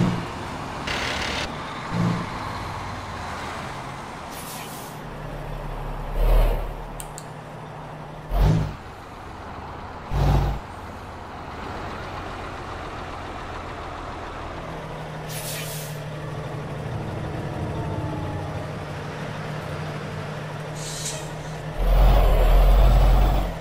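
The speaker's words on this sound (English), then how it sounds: "Yes, the 609 is a Kenworth." Kenworth T609 truck in American Truck Simulator, built Aussie style, idling and driving with a steady low engine drone, several sharp air brake hisses, and a louder engine surge near the end; no talking.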